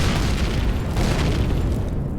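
A rocket launcher explosion in Empyrion Galactic Survival blows apart a generator, a dense, continuous booming roar with heavy low rumble that holds steady for about two seconds.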